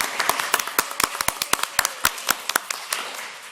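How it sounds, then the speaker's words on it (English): Council members at a municipal meeting clap for a newly seated colleague: a short, moderately close round of uneven hand claps from a small group that fades out after a few seconds. "We can clap"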